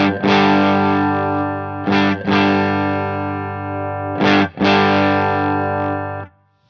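An electric guitar plays through an HX Stomp with the mid switch engaged. Loud, distorted sustained chords ring out, broken by a few brief re-strikes, then cut off near the end.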